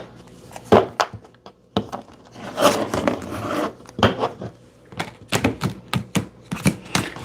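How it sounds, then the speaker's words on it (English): A big, thick deck of tarot cards being shuffled sideways, giving bursts of crisp papery riffling and clacking taps in irregular clusters, close and fairly loud with short pauses between bursts. "I have to shuffle this sideways because it's such a big fat deck."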